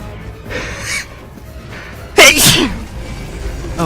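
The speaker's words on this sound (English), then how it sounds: "I'm gonna sneeze." One person sneezes once: a sharp, loud burst after a short inhaling gasp, close to the microphone with nobody talking.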